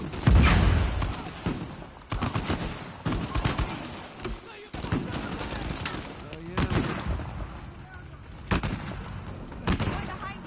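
Rapid bursts of gunfire from a firefight in Uncharted 4, with repeated loud shots and volleys over several seconds, while someone talks intermittently over the shooting.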